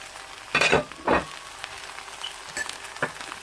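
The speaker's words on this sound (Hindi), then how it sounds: "अब मैं इसमें वेजिटेबल्स भी ऐड करूँगी और इसको अच्छी तरह से हम मिक्स करेंगे।" Vegetables for chicken chow mein are stir-fried and mixed in a hot pan. Two loud scraping tosses come early, followed by softer sizzling and a few light clicks of the utensil.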